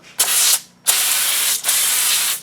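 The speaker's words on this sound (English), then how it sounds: "So I can go ahead and spray all the wheels" Three bursts of pressurized spray hiss close by from an IK Foam Pro 2 foam sprayer spraying car wheels, with brief pauses between them.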